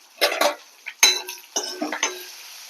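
A spoon stirring lentils, cashews, ginger, green chilli and dried red chilli in a pan, giving several sharp metallic scrapes and clinks in uneven strokes, close and clear without talk.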